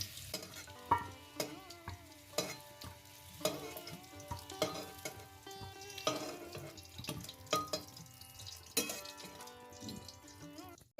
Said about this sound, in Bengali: তেলের মধ্যে আমি সামান্য একটু তেল দিয়ে দিচ্ছি, তেজপাতা দিয়ে দিলাম, আর শুকনো লঙ্কা ছিঁড়ে দিয়ে দিলাম।